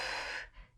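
A forceful exhale during a glute bridge exercise, one breathy rush of air lasting under half a second, close and clear, then fading to quiet.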